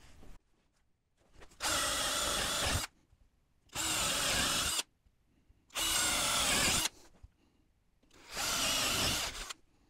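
A power drill bores holes through wooden boards for a homemade climbing wall, in four loud, evenly spaced bursts of about a second each, separated by near silence, close up with no talk.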